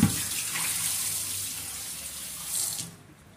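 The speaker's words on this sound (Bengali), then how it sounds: "এটা এবার আমি ফ্রেশ জলে ভালো করে ধুয়ে নেব।" Tap water runs steadily into a sink as vinegar-soaked chicken is rinsed under it, a close continuous splashing flow that swells briefly and then cuts off near the end.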